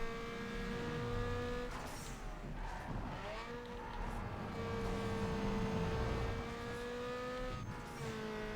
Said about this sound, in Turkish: Arabanın sesini de dinleyin.